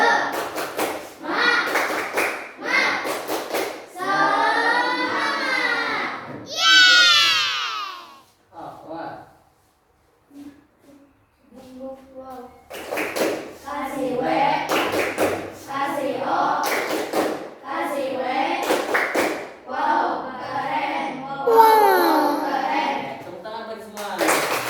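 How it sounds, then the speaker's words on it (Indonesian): A classroom group performs a rhythmic cheer clap led by a teacher, with bursts of hand claps and thuds alternating with children's voices and talk, pausing briefly midway before resuming loudly. "Tepuk semangat sama Siwal ya."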